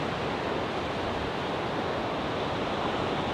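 Ocean waves wash at Culburra Beach at sunrise, a steady broad roar of surf that holds evenly throughout with no voices.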